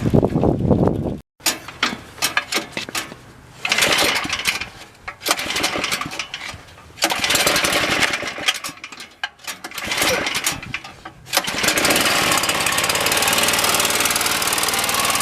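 An engine on a $50 abandoned go-kart runs during a test drive, loud and close, revving in rough, choppy bursts with brief cut-outs before settling into a steady drone.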